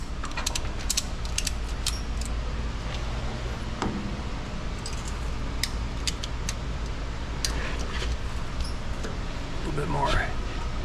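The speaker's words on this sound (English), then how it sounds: "all I need to be doing is I'm gonna ratchet this guy up." A ratchet strap is cranked tight against a car frame, giving scattered creaking clicks and ratcheting ticks. A voice talks quietly underneath at times.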